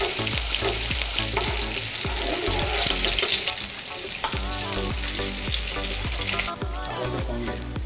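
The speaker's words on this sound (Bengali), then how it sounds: "ঠিক এরকমভাবে মাছটাকে সুন্দরভাবে আমরা ভেজে নেব, হালকা লাইট ব্রাউন কালার আসা অবধি।" Bhetki fish muitha frying in hot oil, a loud continuous sizzle close up, punctuated by regular clacking strokes of a spatula stirring and turning the pieces in the pan.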